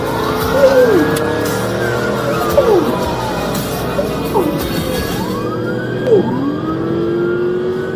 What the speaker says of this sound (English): roaring past 700 horsepower, leaving Black Hawk scrambling to keep up